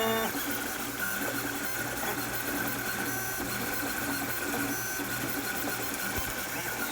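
3D printer working through its first print job, a steady whirring motor hum with faint rhythmic stepping tones, continuous and close with no speech.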